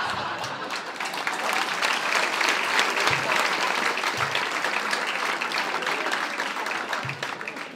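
A stand-up comedy audience on a Danish tour claps steadily and fairly loudly throughout, a dense wash of applause with a few scattered knocks.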